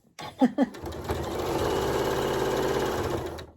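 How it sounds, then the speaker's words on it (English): Two short thumps give way to a sewing machine stitching a quilt block seam in one continuous run of rapid, even needle chatter lasting about two seconds, close and moderately loud, then stopping abruptly. "I'm going to sew straight down"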